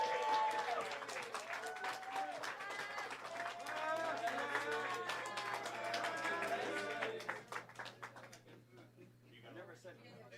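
Audience applause at the finals table of a tournament event, brisk distinct clapping for about seven seconds that thins out into scattered claps and quiet.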